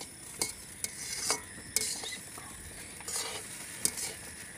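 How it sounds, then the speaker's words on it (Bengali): Snacks being stirred and fried together in a wok for a second, final frying at a rainy-day picnic: a steady sizzle with several sharp scrapes and clinks of the utensil against the pan, close by. "হালকা করে আমরা একটু ভেজে নিয়েছি এইবার আমরা ফাইনাল ভাজবো একসঙ্গে কড়াইতে"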